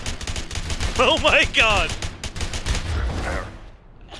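Gunfire from the M1 Garand in the video game A Way Out rattles in a rapid burst of shots while someone shouts in alarm over it.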